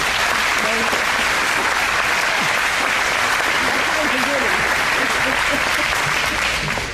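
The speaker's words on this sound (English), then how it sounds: "let's give them a round of applause, please" Loud, dense applause from a graduation audience, continuous clapping that holds at full strength throughout with faint voices mixed into the crowd.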